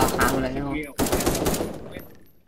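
Video game gunfire crackles in rapid bursts over excited voices, with a short break before another quick volley fades out.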